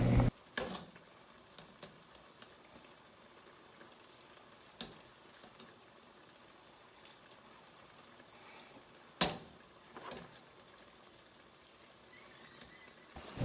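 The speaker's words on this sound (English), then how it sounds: "So you're gonna cook that down until the juice is fully gone" Ground meat and vegetables for shepherd's pie cook down in a pan until the juices are gone, giving a steady low sizzle with a few sharp clatters of stirring and utensil knocks.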